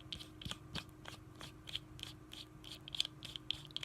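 Metal 510 threads on a stacked mechanical vape mod tube scrape and grind in faint, close, repeated short scratches while the parts are screwed together.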